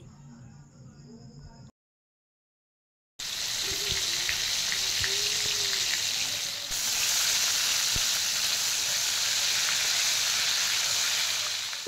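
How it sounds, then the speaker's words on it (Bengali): Bombay duck (lote fish) fillets, coated and dropped into hot oil, fry with a loud, steady sizzle that rises sharply and holds continuously after a brief pause, with no talking over it. "এবার লোটে মাছগুলো এক একটা করে ছেড়ে দেব তেলের মধ্যে।"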